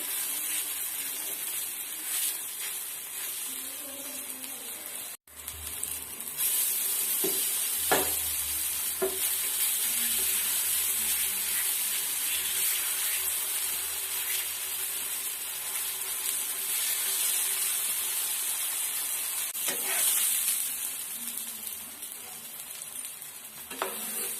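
Elephant yam adai sizzles steadily in hot oil on a pan, a loud, continuous hiss with a few soft clicks and scrapes, broken by one short pause partway through.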